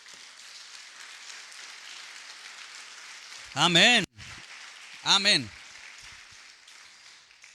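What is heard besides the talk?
congregation applauding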